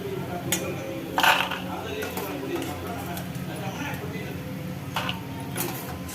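Fried homemade rice-flour Kurkure snacks tipped into a bowl, a few clattering clicks and rattles of crisp pieces against the bowl, close and moderately loud, with a voice talking over part of it.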